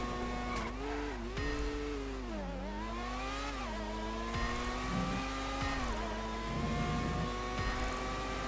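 Race car engine in a GTA racing game holding a steady, sustained whine that rises and dips as it shifts and corners, continuous and close with no talk.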